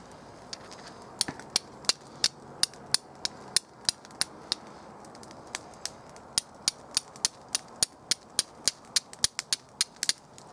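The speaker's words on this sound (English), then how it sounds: "it's hard enough and sharp enough to shave fine shavings off this piece of carbon steel" A flint rock struck against a piece of carbon steel again and again, giving a long series of sharp, close, clicking strikes at a quick, fairly regular pace with short gaps and no talking.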